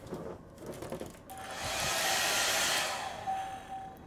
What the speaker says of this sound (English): And here you'll find the hairdryer.